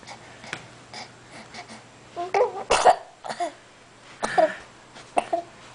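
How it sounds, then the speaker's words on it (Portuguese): Several harsh coughs and throat-clearing bursts come in clusters, sharp and close, with quiet breathing between them and no talk. "que tosse"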